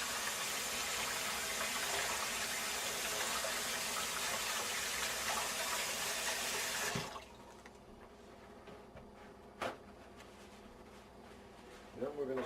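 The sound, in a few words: warm tap water running while washing hands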